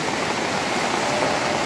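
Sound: floodwater flowing along a street like a river

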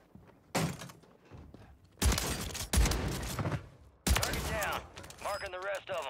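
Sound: shotgun gunfire in Warzone 3 video game

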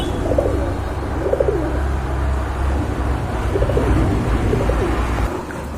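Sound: pigeons cooing

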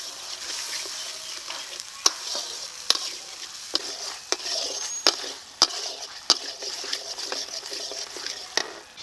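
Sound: spice paste being stir-fried in a pan

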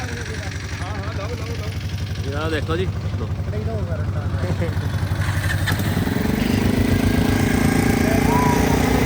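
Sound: tractor engine running

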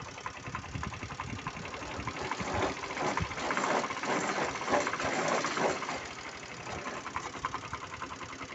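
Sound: mini tractor engine running in gear with vibrating potato digger

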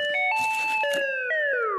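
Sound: doorbell ringing

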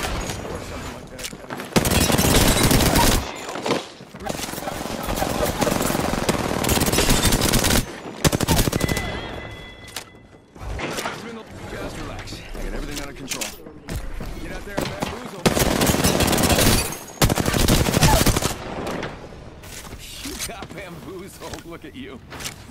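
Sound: gunfire in a video game shooter

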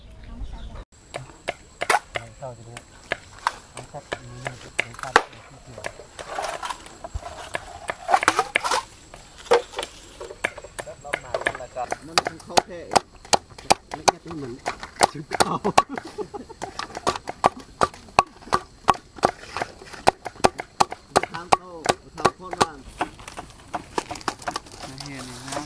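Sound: villagers chopping wood for house building

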